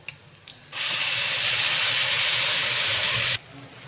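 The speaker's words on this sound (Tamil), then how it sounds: "நம்ம அரைச்சி வச்சுக்கிற கோவைக்கீரை பேஸ்ட்டை வந்து நம்ம இதில் ஊற்றிக்கலாம்" Ivy gourd leaf paste hits hot oil with a loud, steady sizzle that bursts in suddenly after a couple of faint clicks, holds strong for about two and a half seconds, then cuts off sharply.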